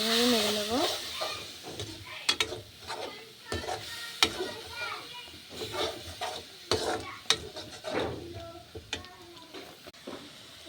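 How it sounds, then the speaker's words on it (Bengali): Spices with salt, chili powder, seasoning powder and turmeric are stirred in a pan, a step before bananas go in. Irregular scraping and tapping from the utensil sit over a low sizzle, fairly quiet throughout, with faint background voices. "এভাবে নেড়ে নেব"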